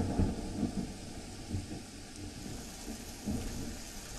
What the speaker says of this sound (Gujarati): દામનગર સહિતના વિસ્તારોમાં વરસાદ પડી રહ્યો છે, ધોધમાર વરસાદ.